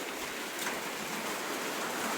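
Steady heavy rain falling near an outdoor bird's nest, a dense continuous hiss with no voices.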